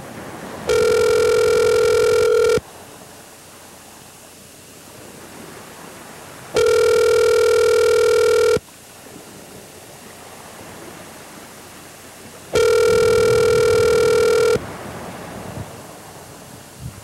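A telephone rings three times during a call, each ring a loud two-second electronic trill separated by roughly four seconds of faint, rushing line hiss.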